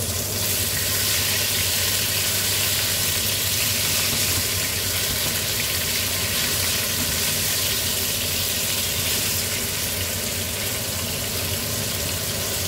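Tofu and enoki mushrooms pan-frying in a non-stick pan, a steady, close sizzle with a low crackling hiss that holds evenly throughout, no voices.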